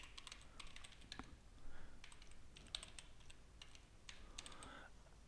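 Quick, uneven typing on a computer keyboard as a username and password are entered, with sharp key clicks in short bursts and brief pauses, close and fairly quiet with no talk.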